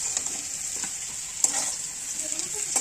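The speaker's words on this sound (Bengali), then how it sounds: "আলু ভাজা হয়ে গেছে।" Potatoes frying in oil in a wok give a steady, bright sizzle, broken by a few sharp scraping clicks of stirring close by.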